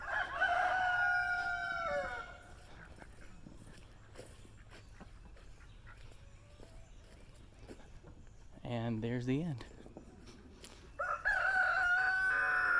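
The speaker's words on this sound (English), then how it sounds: "the chickens will have lots and lots and lots of room to scratch and peck and crow" Backyard chickens on a homestead crow loudly, with one long crow at the start and another at the end, while a person talks quietly in between and footsteps are faintly heard.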